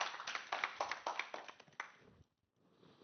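Audience applause at an international education conference session, a burst of scattered hand claps that quickly thins out and fades to near silence within a few seconds.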